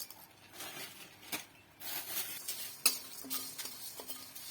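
Whole spices, fennel, cumin and dried red chillies, heating and being stirred in a pan for jhalmuri, with a soft steady sizzle, scraping and occasional clinks of a utensil against the metal.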